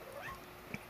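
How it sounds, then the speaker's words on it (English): A cat throwing a fit gives faint, wavering meows and wails in the background, brief and distant against quiet room noise. "if you hear my cat in the background,"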